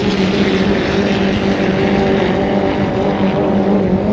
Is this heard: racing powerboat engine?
yes